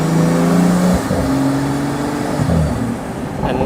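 A Pagani Huayra Roadster BC's engine revs loudly and close under throttle, a sustained high-pitched roar that rises and shifts pitch through gear changes, then dips and builds again, with no talking.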